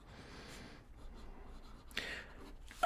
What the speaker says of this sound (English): It's not easy to write on camera.